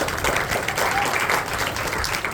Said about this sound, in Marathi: त्यांच्यासाठी तुम्ही सर्वांनी टाळ्यांचा कडकडाट करावा